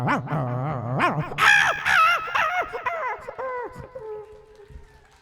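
A mimicry artist imitates two dogs fighting, with a rapid run of loud, yelping barks and howling whines that build and then trail off into drawn-out wails.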